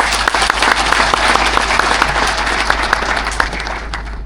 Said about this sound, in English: May we clap for Seedco.